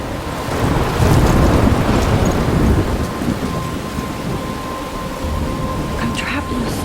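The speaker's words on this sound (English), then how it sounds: "I'm trapped in a storm?" A thunderstorm from the video game Life Is Strange: heavy rain hisses steadily with deep rolling thunder, loud and close throughout, with faint background sounds near the end.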